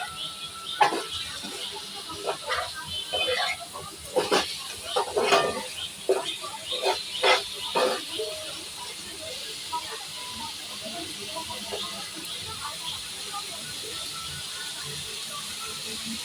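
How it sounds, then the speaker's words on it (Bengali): Spice water is poured into a hot pan while making butter chicken, setting off a series of loud hissing, sputtering bursts over several seconds. The bursts then settle into a quieter, steady steamy sizzle. "দেব একটুখানি মশলার জলটা।"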